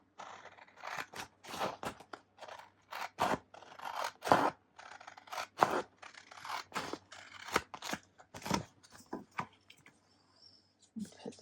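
Scissors snip through TeckWrap sticker paper in a series of close, crisp cuts with irregular pauses between them, and faint crinkling of the sheet in between.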